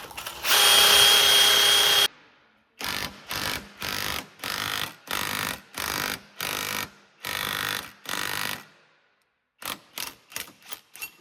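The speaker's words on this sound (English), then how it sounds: "we'll polish the side so that the ball joint will go in nicely" A power tool polishes the lower ball joint bore on a 2003-2007 Honda Accord: a long whining burst, then about ten short even on-off bursts, a pause, and a final quick cluster of brief spurts, loud and close.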